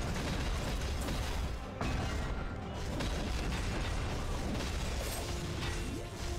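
Xenon's particle accelerator attack fires during the Hard Lotus fight in MapleStory: a dense, loud, continuous wall of booming blasts and crackling bursts that barely lets up.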